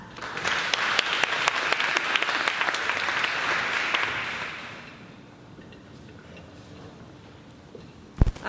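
A symposium audience claps in welcome, a dense, lively burst of applause that fades away after about five seconds, leaving a quiet room with a single sharp knock near the end.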